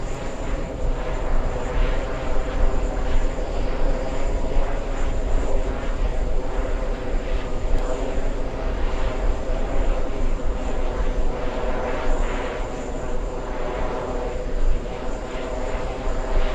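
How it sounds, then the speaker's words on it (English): Passenger airplane arriving on a flight from Beirut, Lebanon, its engines making a steady, loud broadband roar that holds throughout, with faint talk in the background. "This one flying in from Beirut, Lebanon. Arriving right on time."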